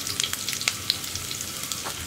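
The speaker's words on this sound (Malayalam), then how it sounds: "ഇതിലേക്ക് ഉള്ളി." Onion fries in hot coconut oil with popped mustard seeds, giving a soft, steady sizzle dotted with faint crackles, close by and brief, with no talking.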